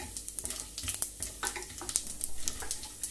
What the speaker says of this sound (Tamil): கடுகு உளுத்தம்பருப்பு கொல்லப்பருப்பு போடணும் லேசா